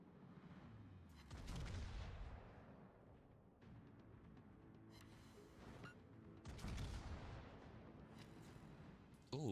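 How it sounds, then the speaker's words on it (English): Machine gun fire in the naval video game World of Warships comes as repeated booming bursts and rattling volleys, some louder and nearer, separated by a lower rumbling battle din. "Let's just go full machine gun mode."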